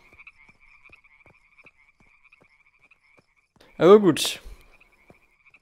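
Frogs croak in the video game Deiland as a single short, loud croaking burst near the end of an otherwise quiet scene with a faint repeating background tone, and someone speaks briefly.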